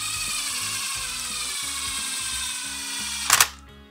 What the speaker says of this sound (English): Right, we'll just go around, make sure these are all nice and snug.